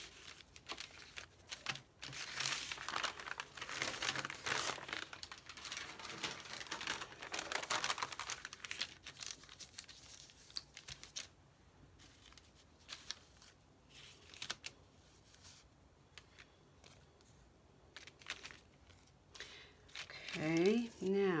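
Scrap paper crumpled and crinkled by hand at a crafting table, a dense run of papery rustling and crackling through the first half, then softer handling noises as a voice talks.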